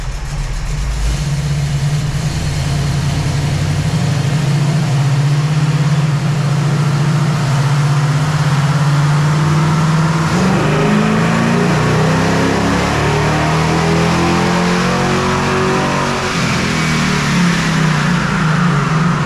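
Stock 440 Mopar big block V8 in a Dodge Challenger R/T running on a dyno, a loud continuous roar that holds steady, then climbs in pitch through a long pull before easing off near the end.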